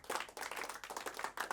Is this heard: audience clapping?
yes